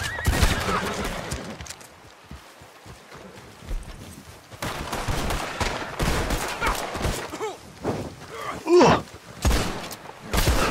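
Gunfire in Red Dead Redemption 2 during a wagon robbery, with a few sharp shots and bursts scattered among horse whinnies and hoofbeats, a loud crack near the end.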